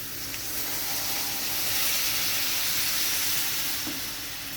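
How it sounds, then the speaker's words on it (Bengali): About a cup and a half of water hits a hot pan of cauliflower and vegetables, producing a loud, steady hissing sizzle that swells and then eases slightly. "এবার আমি দিয়ে দিচ্ছি দেড় কাপ মতো জল"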